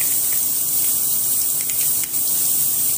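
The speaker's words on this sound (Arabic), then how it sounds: "احنا هندبل البصله دي خالص وبعد كده هننزل بالتوم" Garlic dropped into hot oil over softened onion sizzles in a steady, loud, close hiss that stays level throughout with only a brief dip near the end, no voices.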